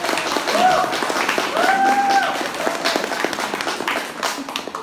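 Concert audience applauding a choir, a full continuous patter of clapping with cheers and whistles rising above it, fairly close and lively, voices calling out throughout.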